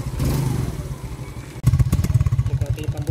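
A 20-year-old motorcycle engine idles nearby, starting softly then pulsing in a quick, steady chugging rhythm, loud and close.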